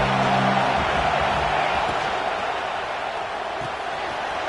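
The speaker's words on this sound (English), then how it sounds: "This crowd ready to make its presence known." Stadium crowd at a Georgia Tech versus Notre Dame college football game, a loud steady roar of many voices filling the air throughout, with faint low tones underneath early on.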